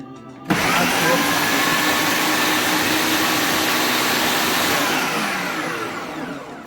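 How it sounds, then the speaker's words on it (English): Electric blender grinding peppers, onion, garlic and ginger with no water added, starting abruptly with a loud, steady whirring roar that holds for several seconds before gradually slowing and fading at the end. "I didn't add water inside the blender. Okay, I'm going to blend it."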